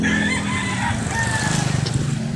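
Roosters crow over scattered hen clucking, moderately loud against a busy outdoor background, with no talking.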